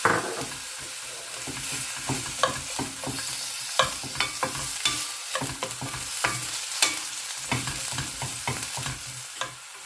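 Onions fry in olive oil in a pan, a steady sizzle broken by frequent scraping knocks as a utensil stirs them, close and clear with no talking.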